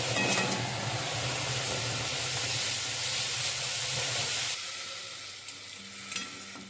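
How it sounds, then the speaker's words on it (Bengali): Cumin seeds, bay leaf and dried red chilli sizzle and crackle loudly in hot oil in a pan for a Bengali dish, a steady hiss that softens near the end, with a light clink or two. "আমি জিরে তেজপাতা শুকনো লঙ্কা ফোড়ন দিয়ে দিচ্ছি"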